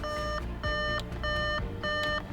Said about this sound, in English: it will stop that annoying beeping